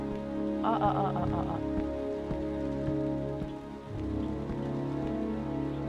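Heavy rain pours down in the video game Heavy Rain, a loud, steady downpour hissing and pattering on surfaces, with a brief burst of other sound near the start.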